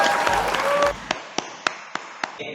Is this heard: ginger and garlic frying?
no